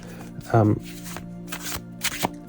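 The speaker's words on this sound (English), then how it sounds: "I'll put a couple more cards down" Tarot cards are shuffled and laid down close up, with a quick riffling burst followed by soft, scattered slaps and taps of cards set onto a table beneath a talking voice.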